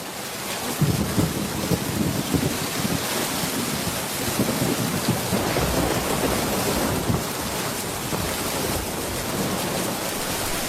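Heavy rain pours steadily through a cartoon thunderstorm, with a dense continuous hiss and low rumbling swells of thunder running throughout and no one speaking.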